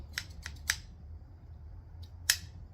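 A few crisp scissor snips, sharp and close, spaced irregularly with a quiet pause before a final cut.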